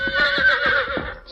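A horse gives a loud, close, shrill whinny that wavers across about a second, with faint hoofbeats underneath, as a radio drama sound effect for a large, hostile outlaw horse.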